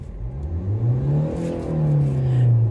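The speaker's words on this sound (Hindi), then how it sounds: "मैं अगर आपको एक बार इसमें ड्राइविंग करके दिखाता हूँ, तो ये अब देखना जैसे मैं रेस दूंगा RPM में" A Hyundai Creta EX diesel engine revs up in the car, its rising and falling harmonic tone swelling and climbing steadily, heard close and clear with no talk.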